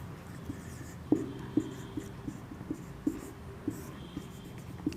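A teacher chalks on a board during a reasoning lesson on calendars, a run of short evenly spaced taps and scratches with quiet room noise beneath.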